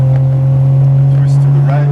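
A Triumph TR6 engine drones loud and close with a steady low hum from the cabin while cruising, rising slightly in pitch as the driver gives it a little gas.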